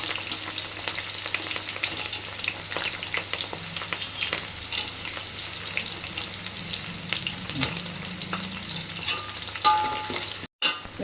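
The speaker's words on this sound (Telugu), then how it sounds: "ఉల్లిపాయ ముక్కలు వేగిపోయాయి కదా" Onions and green chillies fry in a pan with a continuous, fairly loud sizzle, broken by occasional stirring scrapes and a small clatter near the end.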